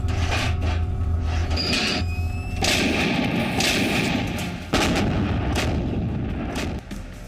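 Artillery guns firing rounds during the Kargil war, a loud, dense barrage of booming shots overlapping with rolling rumble and sharp cracks, continuous and close throughout.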